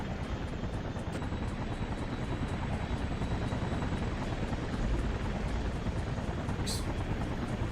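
A helicopter in the video game inFAMOUS thrums steadily close by, its rotor chop pulsing evenly throughout with one brief sharp hiss near the end.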